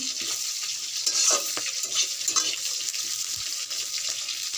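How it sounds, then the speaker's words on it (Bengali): Vegetables frying slowly in a pan over low gas, a steady soft sizzle with occasional stirring scrapes and clinks, close and continuous without any talk. "এগুলো আস্তে আস্তে ভাজা হোক"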